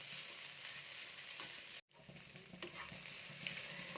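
Grated coconut roasting dry in a hot pan gives a steady, close sizzle and frying hiss with light stirring scrapes, broken by a brief dropout near the middle.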